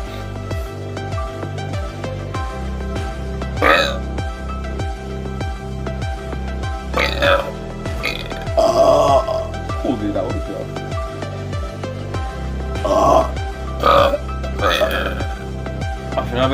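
Several loud, close burps ring out one after another during a burping contest, set against steady background music with people talking and reacting between them.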